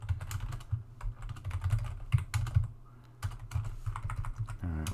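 Quick bursts of typing on a computer keyboard, clicking in uneven clusters with short pauses, close and fairly soft.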